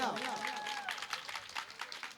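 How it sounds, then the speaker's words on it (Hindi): An audience at a stage devotional singing event claps: a voice at the start gives way to a run of sharp, rapid handclaps from many people, fairly near and fading slightly toward the end. "एक बार जोरदार तालियां।"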